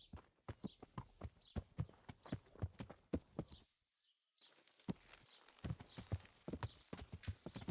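A horse's hooves clip-clop in a steady walking rhythm in the video game Kingdom Come: Deliverance, sharp and close, broken by a brief silent gap before the hoofbeats resume at the same pace; no speech over it.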